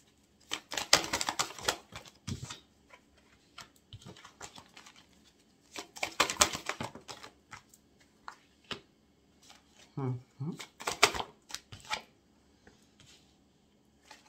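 Tarot cards shuffled and drawn one at a time, heard as repeated bursts of crisp riffling and flicking separated by pauses, close up, with a voice speaking at moments.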